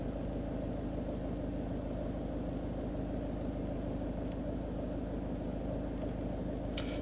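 A Peugeot Hybrid4 engine runs at a low, steady idle while the car stands still to recharge the battery, heard quietly from inside the cabin with a faint click near the end.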